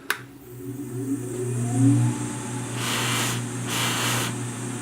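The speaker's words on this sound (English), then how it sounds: "So let me turn the lathe on." A woodturning lathe with a Beall wax buffing setup switches on and spins up to a steady motor whir and hum, with faint airy hiss bursts later as it runs, no talking.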